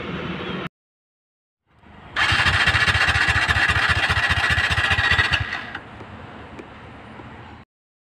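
A TVS Ntorq Race Edition scooter misfires as its petrol runs out. The engine sputters in a loud rapid pulsing burst, falters, and fades away between brief silences.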